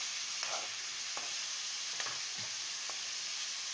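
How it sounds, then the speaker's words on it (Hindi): Chicken pieces frying in hot oil, a steady bright sizzle throughout with a few short stirring scrapes and clinks, close and alone with no talk. "तो हम इसको सबसे पहले करेंगे तेल में फ्राई"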